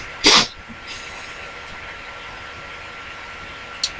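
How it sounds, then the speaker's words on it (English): A single sharp, close sneeze bursts out near the start, followed by a quieter sniff near the end, with steady low room hiss in between and no talking. "Sorry, sneeze."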